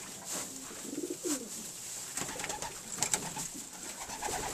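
Pigeons coo in a loft, soft low rolling calls repeating several times over a faint hiss, no talk.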